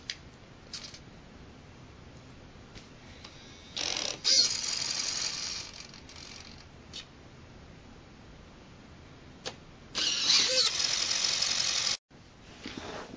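Robot lifter servos run on carpet in two short bursts of harsh, faint buzzing whir, the second lasting about two seconds, against a quiet room.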